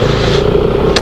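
A Suzuki Smash motorcycle engine drones steadily and loudly up close on a road ride, one continuous hum with no talk, briefly joined by a hiss at the very end.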